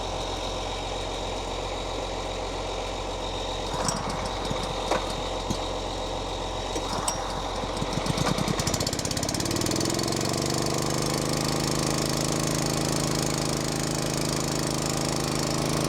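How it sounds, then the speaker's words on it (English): A small motor powering a field tank during sugar beet and potato planting, rattling and knocking at first, then catching and settling into a loud, steady running hum. "Let's get the little motor here going."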